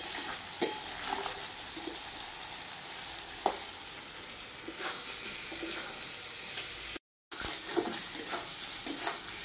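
Tam tum, a spiced meat dish, sizzles steadily in a pan with a constant hiss and occasional sharp pops and stirring scrapes, close and loud, with no talking.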